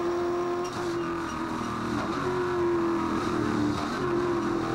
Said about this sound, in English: Changing down to second gear.